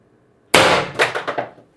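A single sharp shot from an IntruBuster Gen 2 air gun firing 7.3 to 9.9 gram ammo, a loud close crack followed by a few quick clattering rebounds that fade within a second.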